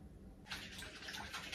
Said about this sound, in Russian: может быть, немножечко такой горячеватой воды добавлю